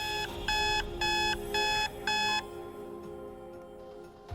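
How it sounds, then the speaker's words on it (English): An alarm clock beeps in four loud, evenly spaced bursts of a bright electronic tone, then falls silent, leaving a faint room hiss. "the real alarm clock is buzzing away"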